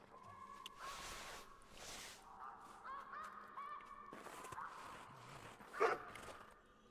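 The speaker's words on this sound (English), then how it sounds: "I've never heard him bark before." A dog barks a few times in theHunter Classic, a hunting game, during a snow goose mission. The barks are mixed with honking geese, and one sharper, louder bark comes near the end.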